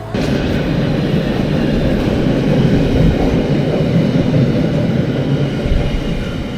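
Steady broadband rumble of a train at a railway station platform in Europe, loud and continuous without pauses, with no voices present.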